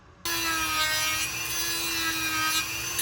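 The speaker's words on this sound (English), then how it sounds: "And now we're just going to take our Dremel and get right up to our lines." A Dremel rotary tool cutting a thermal detonator prop part for a stormtrooper costume, a steady high-pitched whine with a grinding rasp that starts abruptly and runs continuously, close and alone.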